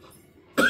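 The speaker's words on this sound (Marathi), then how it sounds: "थोडासा खोकला आहे" A single short cough bursts out near the end, loud and close, after a stretch of quiet room tone, from a man with a slight cough giving a devotional discourse.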